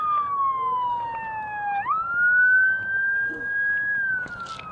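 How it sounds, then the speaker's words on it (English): A police siren wails in downtown Moncton, sweeping slowly down, jumping up, and holding a high tone over faint street noise, loud and fairly close. "If you want to get away from the sirens and the cars"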